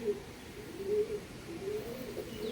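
Soft, low pigeon cooing from a female pigeon repeats in gentle rolling phrases close by, faint against a quiet background hiss.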